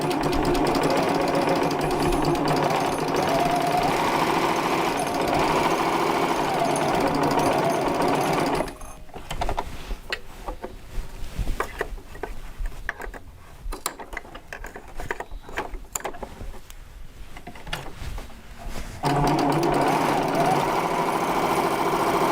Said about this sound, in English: I'm going to go into serging and let's see what we got